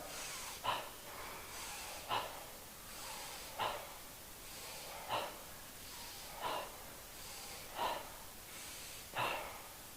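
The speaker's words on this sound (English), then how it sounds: "nose in, mouth out" Circular breathing in through the nose and out through the mouth: seven sharp, regular breaths about every 1.4 seconds, close and fairly loud, with no talking.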